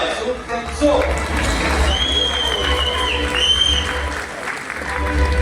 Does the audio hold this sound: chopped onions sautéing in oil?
no